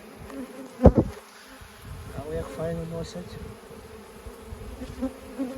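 Honeybees buzzing around the entrance of a beehive, a steady close drone throughout, with someone speaking briefly over it near the start.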